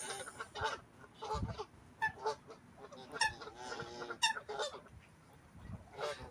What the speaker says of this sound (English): I think these are coots, if I'm not mistaken.